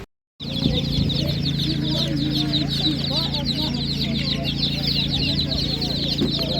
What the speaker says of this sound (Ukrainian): Зразу розпочинається курчатка.